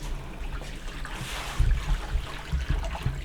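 Water runs steadily into a container at a cold, windy homestead, a continuous low gushing trickle that swells slightly partway through, heard alone at moderate level.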